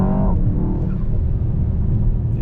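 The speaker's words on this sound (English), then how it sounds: "it's some of the exhaust noises coming from the speakers" Inside a Mercedes S63 AMG E-Performance V8 hybrid, the cabin speakers play an artificial exhaust sound as a low, steady rumble that briefly rises at the start, heard from inside the car.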